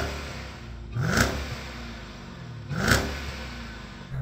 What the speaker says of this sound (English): Let's have a listen to the Jeep.